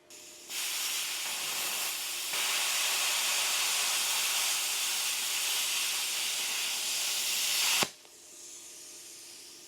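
ANDELI plasma cutter running off a 110 outlet at 35 amps, cutting 1/2 inch rebar with a steady loud hiss for about seven seconds that stops with a sharp click, then a quieter residual hiss.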